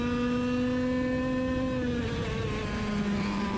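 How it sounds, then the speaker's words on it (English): A racing kart on a new track holds the throttle, its engine droning in a steady high-pitched buzz with a slight drop in pitch partway through, loud and continuous, with no speech. "Let's listen to the throttle, see if I stay in it a little longer now."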